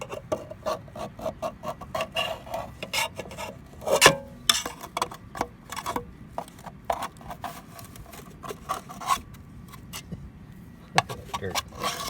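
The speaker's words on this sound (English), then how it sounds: "I got a scraper in the bottom of this one." A scraper works dirt out of the bottom of an oil bath air filter, giving irregular close scratching and gritty scraping bursts with short pauses, one sharper scrape standing out near the middle.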